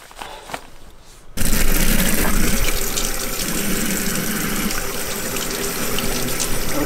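A sink tap opens abruptly and runs steadily, water gushing into the basin for a glove waterproofing test, loud and continuous after a quiet start.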